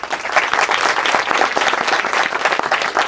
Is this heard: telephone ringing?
no